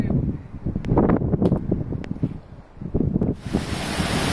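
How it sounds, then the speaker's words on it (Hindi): Snowmelt water rushes loudly below a high-altitude trail on the Gaumukh Tapovan trek, a steady broadband roar with gusty wind buffeting the microphone, swelling brighter and harsher toward the end. "तो पानी भयंकर बह रहा है"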